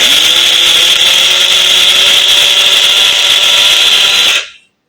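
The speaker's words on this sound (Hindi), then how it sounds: "अच्छा ये जो साबुत मसाले थे वो ग्राइंड हो गए हैं।" An electric grinder whirs loudly while grinding whole spices for chaat masala, a steady high-pitched motor whine held for over four seconds before cutting off abruptly into silence.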